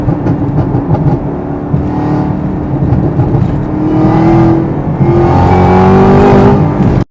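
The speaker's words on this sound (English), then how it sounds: "where you can hear the intake and the whine" A car fitted with a Corsa Performance cold air intake revs through downshifts, its engine roar carrying a rising, high intake whine that swells and falls, loud and close, ending abruptly.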